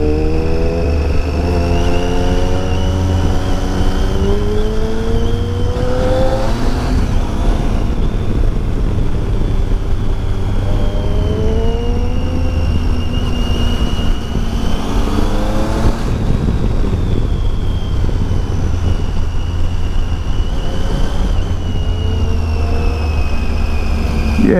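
A Triumph Tiger motorcycle rides along Mulholland Drive, its engine droning loud and close without a break, rising and falling in pitch as it shifts and changes speed on the winding road.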